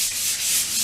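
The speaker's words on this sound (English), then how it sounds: "I'm going to go ahead and do a sanding, light sanding of 220" Light hand sanding of a wooden rocking chair with 220-grit sandpaper between finish coats, a close, steady scratchy rubbing with gentle rhythmic strokes.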